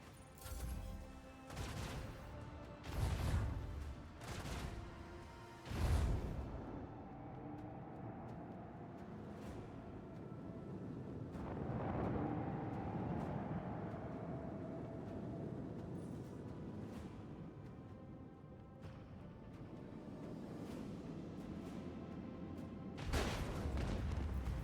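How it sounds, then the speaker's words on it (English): Repeated macro cannon volleys in the Rogue Trader game, with heavy booming blasts clustered near the start and end and a long rumbling, grinding barrage between them. "Engage the macro cannons."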